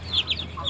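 Native chickens cluck and peep faintly, a few short rising calls over a quiet background.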